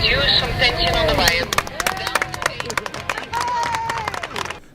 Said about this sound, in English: what we did hear in the background was a round of applause from many of there were hundreds of onlookers there